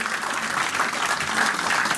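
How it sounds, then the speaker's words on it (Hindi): An audience at an evening event honouring elders in Noida claps loudly and continuously, a dense, steady burst of applause from a crowded hall. "आप सब अपनी सीट से खड़े होकर उस पूरे ग्रुप के लिए ताली से उनका सम्मान करें"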